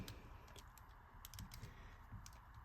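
A formula is typed on a computer keyboard as a quick run of soft, close key clicks over a low room hum, with no speech.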